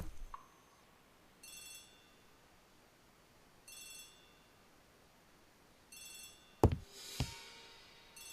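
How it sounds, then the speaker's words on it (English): A telephone bell rings in short trilling bursts, three times at even intervals, in the Agatha Christie The ABC Murders video game. A sharp clatter and thump follow near the end; no one speaks. "The telephone is ringing."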